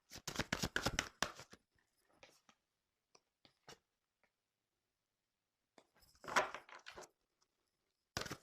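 Tarot cards being shuffled for a reading, a quick burst of crisp riffling up close, then scattered soft taps and slides, followed by another flurry of shuffling and a final snap, in a quiet room with no talking.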